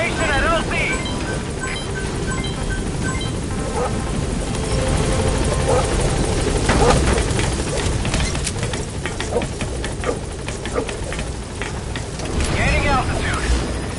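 In the Metal Gear Solid V video game, the Pequod helicopter arrives at a landing zone with a loud, continuous rotor thrum and whine close by, mixed with game effects and a radio voice.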